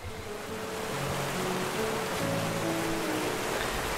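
Waterfall in the video game The First Tree: a steady, full rushing wash of falling water, growing slightly louder, with soft sustained musical tones faintly underneath.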